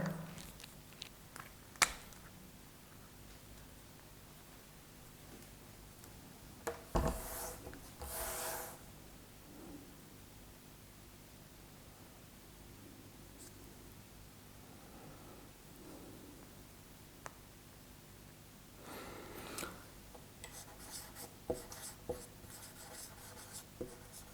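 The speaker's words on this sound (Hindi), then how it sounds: "आइए प्रश्न को मैं बोर्ड पे लिखता हूं" Chalk or marker writes a maths question on a board, producing faint scraping and rubbing strokes in scattered bursts, with no talking.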